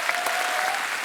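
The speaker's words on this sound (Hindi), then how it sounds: "इस बात के लिए तालियां बनती हैं।" Studio audience clapping on a comedy talk show, a brief burst of full, even applause lasting about a second with no pause.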